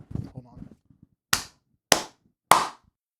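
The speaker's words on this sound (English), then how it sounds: "Can you give me a clap?" Three sharp, loud hand claps spaced about half a second apart, each ringing briefly, following a short burst of speech.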